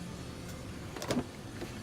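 Electric sunroof motor in a car's cabin giving a brief whirring hum of about a quarter second, fairly close, above steady quiet interior background.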